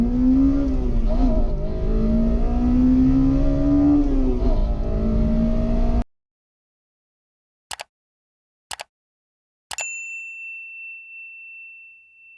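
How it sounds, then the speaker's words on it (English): A Honda engine revs hard as VTEC engages, a loud, rising mechanical howl whose pitch climbs and dips over six seconds and then cuts off, followed by a few short clicks and a fading electronic chime. "You'll know the difference when the VTEC is activated by the sudden change of the engine sounds like this."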